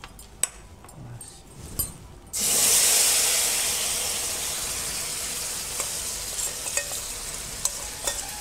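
Wet spice paste mixed with water hits hot oil with a sudden loud sizzle that hisses strongly and slowly fades, with light clinks of stirring.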